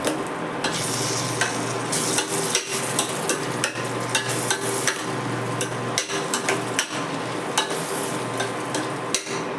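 Eggplant fries in hot oil for a spicy bean, eggplant and potato curry, a constant loud sizzle broken by repeated scraping stirs of a spoon against the pan.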